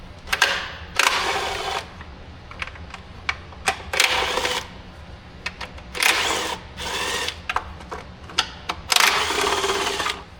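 Close-up bursts of a ratcheting or powered driver removing 8 mm upper intake bolts from a 2016 Jeep Cherokee Trailhawk 3.2L engine, with repeated short whirring runs separated by clicks and pauses.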